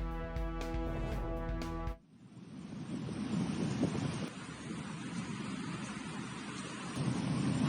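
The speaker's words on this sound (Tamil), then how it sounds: "விசாகப்பட்டினம் உள்ளிட்ட இடங்களில் இடி மின்னலுடன் கனமழை." After a short musical sting, heavy rain with thunder during a storm over Visakhapatnam, Andhra Pradesh, fills the scene as a steady roaring wash with low rumbling swells, fairly loud and continuous.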